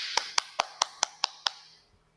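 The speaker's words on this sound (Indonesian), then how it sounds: "Tepuk tangan buat kita semua" Seven sharp hand claps in a steady, even rhythm, fairly close, then fading into quiet.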